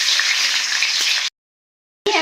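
Chopped onion drops into hot mustard oil in a kadai and sizzles in a loud, steady hiss, which cuts off into brief silence before the sizzle starts again.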